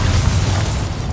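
A Bombarda explosion spell in Hogwarts Legacy goes off as a loud, deep boom with rumbling low-end that lingers briefly before fading.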